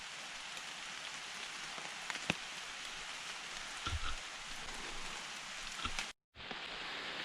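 Steady rain patters on leaves and surfaces in the woods, a dense, even hiss with occasional louder drips close by, broken by a brief near-silent gap near the end.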